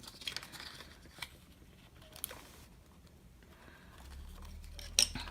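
Scissors snip the little corners off a paper pug-and-tie bookmark: a few quiet, crisp cuts spaced apart, with soft paper rustling and a low hum creeping in near the end.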